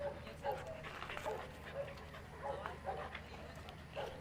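A nervous cattle dog at an animal shelter gives repeated short whimpers and yips in an irregular sequence, fairly close, with quiet people talking in the background.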